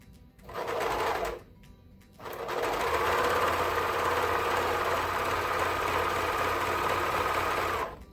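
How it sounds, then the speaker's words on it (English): A serger overlock machine stitches elastic onto a swimsuit, its fast mechanical whir running in a short burst, pausing, then continuing steadily and loudly up close for several seconds. "Lightly keeping it stretched as I serge it, not too much."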